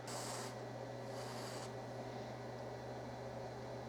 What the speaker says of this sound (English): I'm gonna take the temperature sensor here and spray it with some of this computer duster